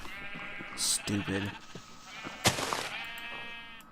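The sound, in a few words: sheep bleating in Minecraft video game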